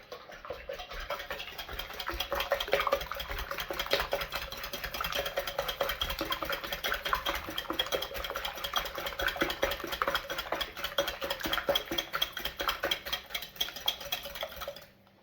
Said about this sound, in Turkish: Şimdi arkadaşlar ses olacak diye makineme çırpmıyorum. Mikserle.